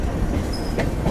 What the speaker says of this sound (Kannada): 1658 Nizamuddin Hubli super fast express ಬಂದೈತ್ರಿ ಕೋಪರ್ಗಾವ್ಗೆ